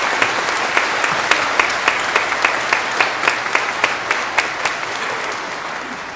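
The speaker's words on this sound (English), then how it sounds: "If there's ever been an appropriate time to applaud in worship," A church congregation applauds in worship with loud, sustained clapping from a sizeable crowd, a few sharper individual claps popping out of the steady wash of hands as it fades slightly at the end.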